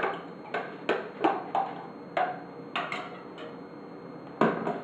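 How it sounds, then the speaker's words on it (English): A spoon stirs pasta fagioli soup in a pot, giving a series of close, crisp scrapes and knocks against the pot at irregular intervals, with no talking. "And we'll give that a stir."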